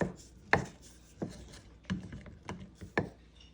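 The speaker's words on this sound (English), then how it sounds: "You're able to get in there and like really mix it well and scrape down the sides and stuff like that" A utensil scrapes and knocks inside a wide-mouth jar while mixing sourdough starter, with several separate close taps and scrapes at uneven intervals.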